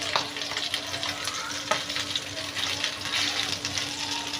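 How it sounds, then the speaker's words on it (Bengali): Mochon tengra fish fry in a pan with a constant loud sizzle, punctuated by scraping and clinking as the pieces are turned over, heard close up with no talking. "এই পর্যায়ে মাছগুলো এপাশ ওপাশ করে উল্টে নেব।"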